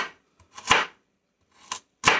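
Knife chopping baby carrots on a cutting board for chicken broth: three crisp, close chops spaced apart, with a faint tap between the first two.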